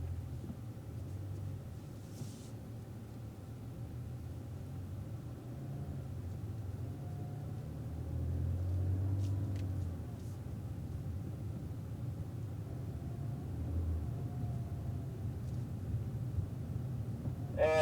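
Race car pulling out of pit lane at Homestead, a low steady engine rumble with road noise that holds fairly constant, swelling slightly midway and building again near the end, with no one speaking.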